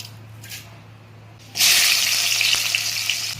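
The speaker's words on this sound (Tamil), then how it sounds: "புளிக்குழம்புக்கு வெந்தயம் போட்டு தாங்க தாளிக்கணும்" Fenugreek seeds drop into hot oil to temper a tamarind kuzhambu and burst into a loud, steady crackling sizzle after a quiet start, continuing close and even to the end.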